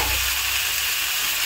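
Drained vegetables frying in a little oil, giving a loud, steady, close sizzle that crackles without a break and with no voices.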